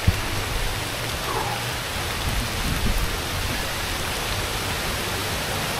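Broad, steady rushing roar of water from the top of a waterfall in Tobago, continuous and enveloping with no voices.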